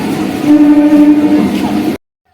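A Howrah-Katwa local train pulling into a platform, a loud close rumble with a sustained horn tone, cutting off abruptly after about two seconds.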